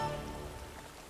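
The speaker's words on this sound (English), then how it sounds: "looks like rain" Rain in the Witcher 3: Wild Hunt video game, a faint, steady hiss of falling rain with soft patter, alone and quiet in the background.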